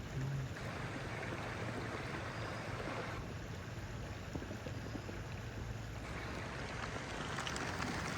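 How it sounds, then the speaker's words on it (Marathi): Continuous rushing water, like a flowing river, steady and fairly close, with a broad hiss that never lets up and no voices, near a Datta temple. "पाण्याचा आवाज एकदम भारी."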